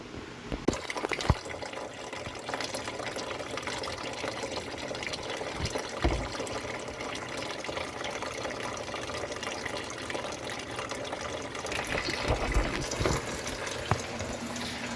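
Coolant drains from a car radiator, pouring and trickling steadily into a container, a continuous splashing flow with occasional drips and knocks, fairly faint.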